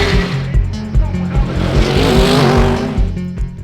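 An HWA EVO.R race car racing in the Nürburgring 24 Hours, its engine loud and close with rapid rising and falling revs through gear changes, plus a brief tire squeal, heard alone without talk.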